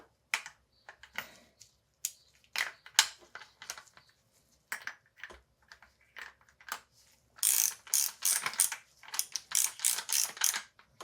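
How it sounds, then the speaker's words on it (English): A torque wrench ratchets as it tightens the top cap on a Marzocchi Bomber Z2 fork, with sparse clicks at first, then rapid, crisp clicking strokes close up. "Torque wrench, 24 Newton meters."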